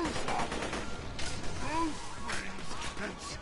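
Gunfire and impacts from the video game Borderlands: The Pre-Sequel, scattered shots and crashes mixed with game sound effects and voices.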